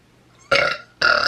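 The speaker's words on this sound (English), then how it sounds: "burp" A person lets out two loud, close burps in quick succession, the second following after a brief pause, with no other sound around them.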